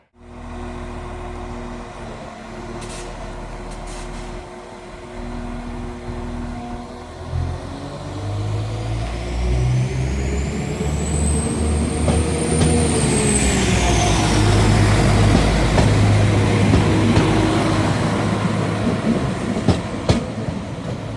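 A passenger train departs Lincoln station, rumbling louder and closer as it pulls away, with rail clatter and a rising wheel squeal building over about twenty seconds.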